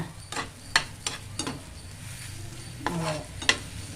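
Chopped pumpkin being stirred and sautéed in a pan for Tamil-style pumpkin payasam, with soft sizzling and several sharp spoon scrapes and clinks against the pan at irregular intervals, close and moderately loud.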